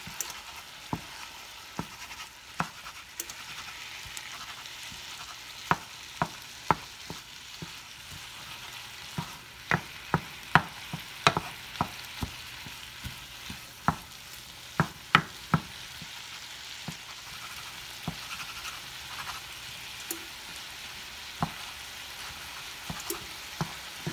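Ground beef browns in a frying pan under a constant soft sizzle, punctuated by sharp scraping clicks and taps of a utensil breaking up the meat at irregular intervals, close and moderately loud.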